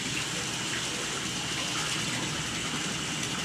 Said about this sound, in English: we're just waiting for the bath water to fill up a little bit.